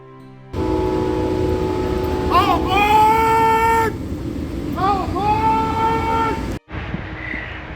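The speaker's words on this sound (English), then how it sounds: "this is the train station." Busy train station ambience with a steady wash of crowd and rail noise, rising whistle-like tones sounding twice mid-way, then a sudden drop to quieter background near the end.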